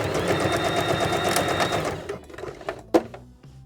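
A sewing machine runs a fast, steady stitching burr while sewing a rainbow pillow toy, then stops, followed by a few sharp clicks and handling knocks.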